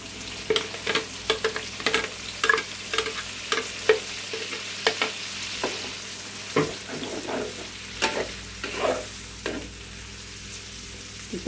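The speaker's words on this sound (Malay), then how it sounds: "Kita tumis sehingga dia masak pecah minyak dan garing." Blended spice paste for tomato chicken being stir-fried in a pan, with bay leaves already added, gives a steady sizzle. A spatula scrapes and clacks against the pan in irregular strokes throughout. No one speaks.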